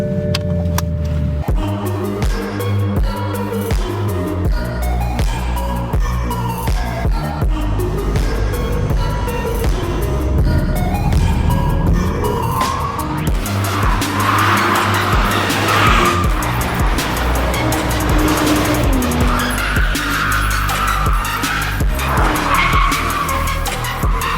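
A Toyota Supra engine roars continuously with rising and falling revs while tires screech and skid, loud and close with no talking.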